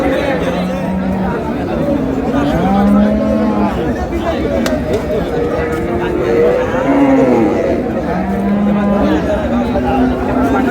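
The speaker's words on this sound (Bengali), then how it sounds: "গাভী বাছুর" Cows and a calf moo repeatedly at Amberi cattle market in Dinajpur, the long lowing calls loud and close over a steady murmur of crowd chatter and people talking.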